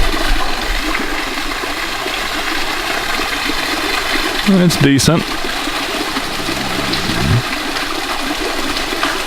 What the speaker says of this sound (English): And then of course we have a cool waterfall.